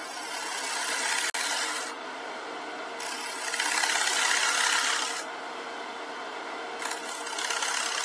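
Gouge scraping a birch bowl spinning on a wood lathe, a close, bright rasping hiss in sustained passes separated by brief quieter gaps.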